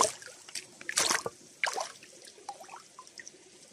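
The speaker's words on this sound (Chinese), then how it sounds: "洗一洗看看" Water splashing and trickling over a freshly found stone as it is rinsed by hand outdoors, a few close, faint dribbles and drips in irregular bursts.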